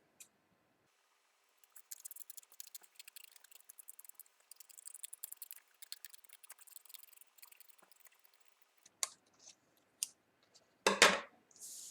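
A paper rectangle is cut out with a run of faint, close snips and light paper rustling, followed by a few louder handling sounds near the end.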